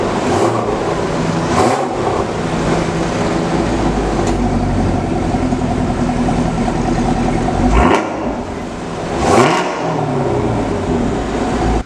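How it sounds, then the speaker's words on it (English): A 2018 Chevrolet Camaro ZL1 1LE V8 exhaust in touring mode, a steady loud drone from a moving car with a few swells as the engine revs near the end, no voices. "I wanted to show you guys the difference between the kind of the touring mode and the track mode, the exhaust"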